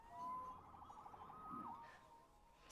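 A police siren wails in the Spider-Man Remastered video game, a faint rising and falling electronic tone set back in the mix under ambient game sound.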